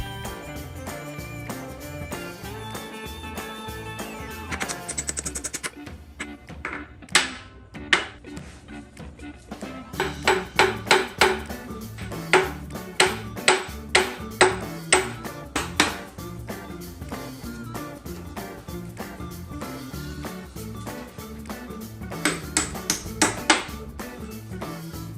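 A ball peen hammer strikes the seized inline-six engine of a 1955 Chevy Bel Air over and over, sharp metallic clanks and pings landing in irregular bursts over a background of low clutter.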